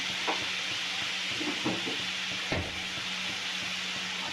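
Ginger garlic paste sizzles in hot oil for a prawn gravy, a steady close hiss broken by a few soft stirring clicks, with no talking.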